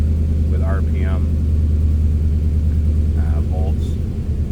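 A 1966 Dodge Coronet Deluxe two-door sedan fitted with a 5.7 liter Hemi V8 idles with a steady, deep low rumble that sits close and loud throughout, while someone talks over it in short phrases.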